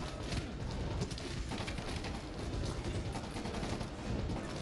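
Dense gunfire in Medal of Honor Warfighter's Shoreleave campaign, steady rattling bursts of automatic weapons and distant shots filling the whole stretch at moderate loudness, no voices on top.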